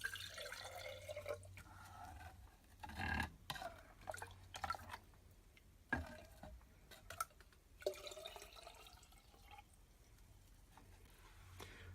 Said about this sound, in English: I'll just weight the bottle down by scooping out some of this liquid and pour it in